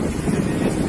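A boat motor runs on a flooded street, a close, steady mechanical drone mixed with wind rush and water noise.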